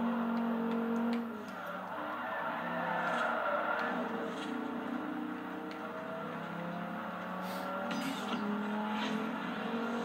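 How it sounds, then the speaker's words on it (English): Turbocharged racing boat engines in a video game drone steadily and loudly through the whole stretch, a sustained motor roar with slow pitch swells and no talking. "you can hear the turbos"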